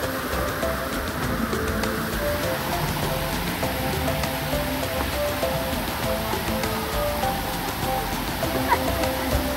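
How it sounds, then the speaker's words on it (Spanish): An artificial waterfall at a water park gives a continuous, even rushing hiss of falling water, fairly close and steady, with faint voices and park noise in the background. "Una cascada."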